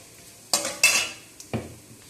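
Panch phoron whole spices dropped into hot mustard oil in a pan, with a few close clanks of a metal spoon against the pan and a brief crackle, no voices.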